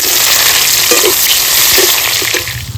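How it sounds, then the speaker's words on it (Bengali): Dry spices (bay leaf, dried chilli, whole garam masala) frying in hot oil for a meat curry, a loud, dense sizzle with light crackles close by, easing slightly at the end. "ফোড়নটা ভাজা হয়ে গেছে পেঁয়াজ কুচি দিয়ে দেবো"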